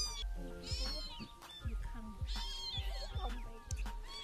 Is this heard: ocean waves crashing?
no